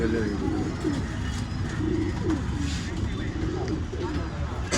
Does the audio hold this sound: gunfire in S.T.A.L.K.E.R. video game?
no